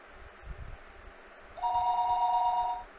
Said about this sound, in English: Wow, okay, phone call.